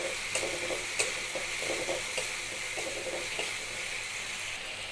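Spice paste of ground cumin, coriander and slit green chillies is stirred and fried in a pan for a fish curry, a continuous bright sizzle broken by light scraping clicks of the spoon, close and steady, with no voices.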